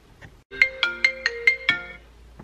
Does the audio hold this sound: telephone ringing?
yes